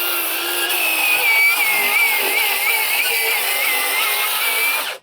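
A power saw fitted with a demolition blade cuts steadily through deck boards near a joist while a deck is being torn down, running loud and continuous for about five seconds before it stops abruptly.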